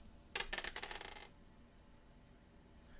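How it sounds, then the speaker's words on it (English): Dice are rolled, giving a single quick rattling clatter of small tumbling hits that lasts about a second and then settles into quiet, soft and nearby, with no voices. "Roll the dice one last time."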